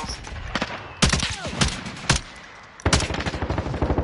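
Rapid bursts of automatic gunfire crackle loudly in a Warzone battle royale match, coming in several close, sharp volleys separated by brief lulls, with a final sustained burst at the end.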